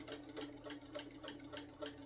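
A sewing machine runs steadily on a rag quilt, its needle ticking in an even rhythm of rapid stitches, close and fairly quiet, with no voices.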